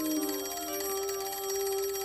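A public payphone rings with a steady, continuous electronic trill that stays at an even level throughout and has no voices over it.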